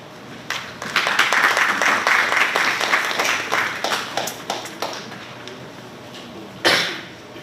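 An audience applauds loudly at a formal road infrastructure investment project event, building quickly and thinning out over several seconds before a single cough cuts through near the end.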